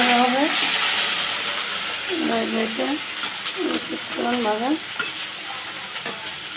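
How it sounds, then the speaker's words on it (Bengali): Onion and nigella seeds frying in a pan give a steady close sizzle with occasional utensil clinks, while someone speaks intermittently over the cooking. "আজকে ইয়ে পেঁয়াজ দিলাম আর একটু কালো জিরা দেব"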